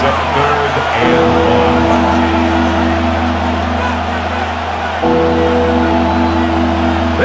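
In a Madden NFL 26 game, the stadium crowd roars steadily as the San Francisco 49ers face the Arizona Cardinals, a dense, loud wall of fan noise with a sustained tonal chant or horn layer that swells and shifts.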